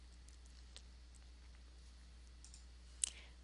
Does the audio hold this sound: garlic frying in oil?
no